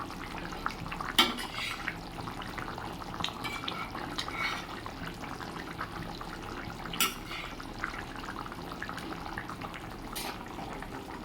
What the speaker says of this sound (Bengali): ঝোলটা টকবক করে ফুটে উঠেছে